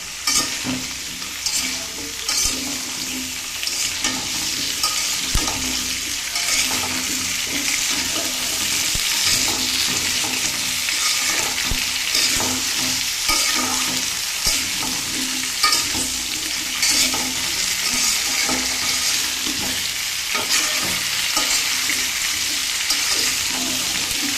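Vegetables sizzle and fry in a pan for bhuna khichuri while a utensil stirs them, scraping and clattering repeatedly over a constant loud hiss, close up with no talking.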